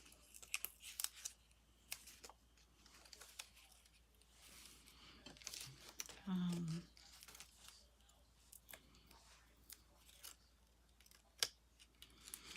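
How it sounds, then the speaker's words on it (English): Scissors snip paper while Christmas ornaments and gift card holders are made, giving a scattered series of sharp, close cuts over a quiet background. A short voice sound comes briefly midway. "Let's cut these up."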